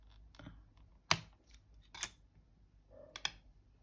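Polymer clay has its sides trimmed with a blade in a few separate quiet cuts, short crisp snips spaced about a second apart against a near-silent background.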